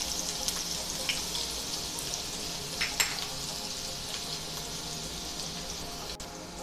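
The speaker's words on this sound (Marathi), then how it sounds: "आता हे लसणाच्या पाकळ्या आपल्याला यावरती टाकून घ्यायच्या आहेत" Garlic cloves sizzle steadily in about four to five tablespoons of hot oil in a pan, cooked before frying surmai pieces. The hiss is continuous and close, with a few sharper crackles and pops, and no voices.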